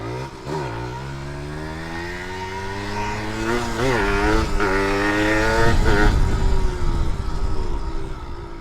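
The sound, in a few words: old motorcycle engine warming up, noisy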